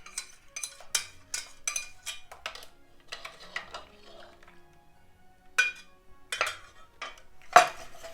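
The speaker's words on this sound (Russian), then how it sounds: "И хорошенько размешаем." A utensil repeatedly clinks and scrapes against a metal saucepan while stirring custard cream for a Napoleon cake, in quick irregular taps with brief pauses and a sharper clank near the end.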